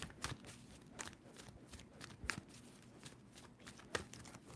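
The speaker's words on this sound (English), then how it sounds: "Two more shuffles for Pisces." A deck of tarot cards is shuffled close up, repeated soft riffling bursts and snaps in an irregular rhythm, fairly quiet with no talk.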